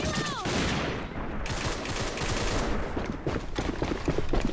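Rapid bursts of gunfire in the online shooter AVA, loud, dense and continuous across the whole stretch, with repeated shots layered over a constant din of battle.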